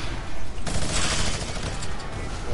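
Rapid video game gunfire rattles loud and continuous for a few seconds, a dense burst of shots with no pause.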